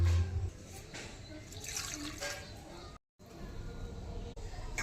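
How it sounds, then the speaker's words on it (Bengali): Water running and splashing over potatoes and leafy greens stems as they are washed in a kitchen, steady and fairly faint, with music from a nearby house playing underneath and a brief silent gap midway. "আলু আর শাকের ডাঁটা ধুয়ে নিয়েছি"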